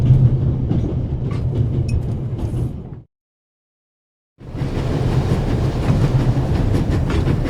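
A rocking train in The Raven video game rumbles and rattles along its rails, loud and continuous, cutting to a brief silence before the clattering resumes.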